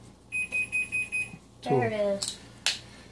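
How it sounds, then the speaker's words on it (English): A phone timer alarm beeps in a rapid pulsing pattern of about five bursts during a pot pie bake, close and clear, followed by a voice speaking. "When you set a timer on my phone for like 10 minutes"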